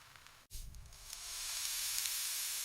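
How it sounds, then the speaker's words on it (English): A steady hiss of food sizzling in a pan swells after a sharp clatter, holding at a constant crackling level throughout. "The sound of sizzling food makes the whole kitchen feel alive."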